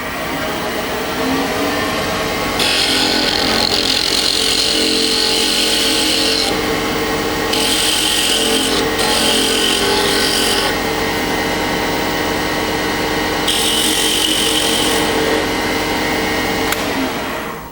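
High-speed light cuts on a brittle Bocote pendant spinning on a wood lathe, a steady whirring motor hum broken by several bursts of bright scraping and hissing as the tool meets the wood, loud and close, with no talking.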